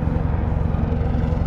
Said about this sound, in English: Helicopters flying all over the place